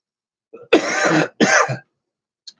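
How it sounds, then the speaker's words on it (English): Two harsh, rasping coughs close to the mic, each drawn out, with a brief faint sound before and a small click after. "I hope you were coughing with me"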